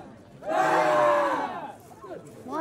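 A summer camp group shouts its cheer together, a loud crowd yell swelling and fading over about a second, followed by scattered voices talking.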